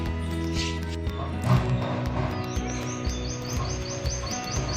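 Myna birds chatter and call repeatedly in short high bursts over a steady low hum and some nearby thumps, without any talking.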